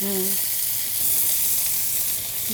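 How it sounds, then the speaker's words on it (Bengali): Eggplant frying in hot oil, spiced with turmeric, chili and salt, gives a loud, steady sizzle throughout, with a brief tonal clink at the start. "ঠান্ডা বেগুনটাকে গ্লেজ করে নিলাম একটু তেলে ভেজে"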